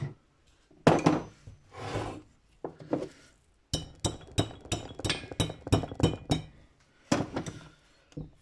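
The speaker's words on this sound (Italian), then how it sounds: "Poi prendo un martellino." A small hammer taps on a Polini part of a 75cc Ciao moped, sharp metallic clinks in quick irregular bursts with brief pauses, close and clear.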